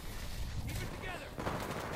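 Rapid gunfire in Titanfall 2 multiplayer Attrition rattles continuously and fairly loudly, mixed with game sound effects and shouted voices.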